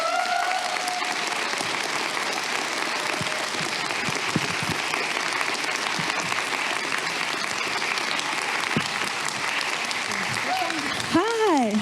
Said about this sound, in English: Please give a huge, and I mean huge, round of applause for the actress Anna Shaffer.